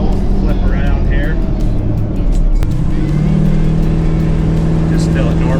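A car drives along a road at normal speed, its engine droning steadily from inside the cabin. Partway through, the pitch drops briefly as if shifting gear, then settles into a lower, even hum.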